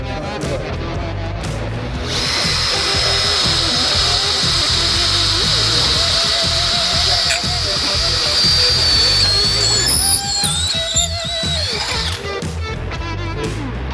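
A power drill runs with a sustained high whine and grinding, steady for several seconds, then shifting pitch as it bites, loud and close.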